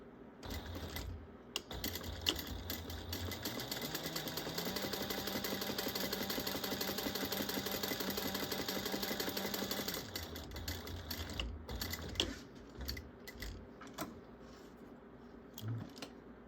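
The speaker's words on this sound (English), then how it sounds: "we're going to top stitch the pocket at 1/8 of an inch" A sewing machine top stitching a bag pocket at an eighth of an inch, a fast steady mechanical whir running for about six seconds between short bursts of stitching and handling clicks.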